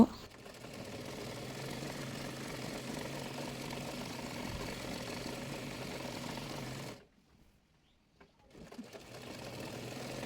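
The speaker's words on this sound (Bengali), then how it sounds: "এরপর ডাবল সেলাই দিয়ে নেব।" Sewing machine running steadily while double-stitching palazzo trousers, a continuous mechanical whir for about seven seconds, then stopping into near silence with a brief restart near the end.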